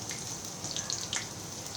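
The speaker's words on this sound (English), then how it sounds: "You can hear the oil is nice and hot with a sizzling sound." Spinach (palak) leaves fry in hot oil with a steady, close, hissing sizzle and fine crackles throughout, no voices.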